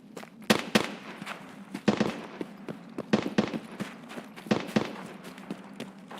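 Distant gunshots crack in the video game Escape from Tarkov, coming in irregular clusters of two or three sharp reports over a quiet background.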